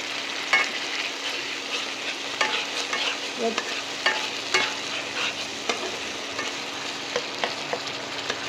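Ginger, garlic and green chili paste fries and sizzles in a pan with steady crackling and repeated sharp stirring scrapes, close and alone with no voices.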